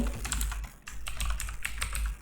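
A name being typed on a computer keyboard, a steady run of close, clear clicking keystrokes over a constant low hum, no talking.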